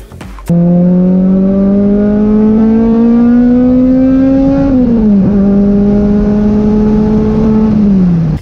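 A loud Toyota 2ZZ-GE engine revs to a steady high whine, dips briefly midway, then climbs and holds again before cutting off.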